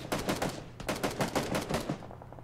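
Rapid bursts of automatic gunfire in PUBG, two strings of sharp cracking shots with a short pause between, fairly close and loud, then cutting off.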